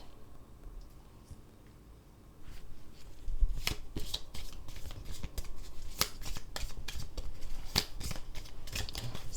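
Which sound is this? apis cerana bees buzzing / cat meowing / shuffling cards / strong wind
shuffling cards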